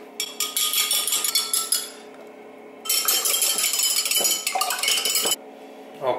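Calibration solutions for a pH meter being stirred in a home brewery, producing rapid clinking and rattling of utensils against containers in two loud bursts separated by a short pause.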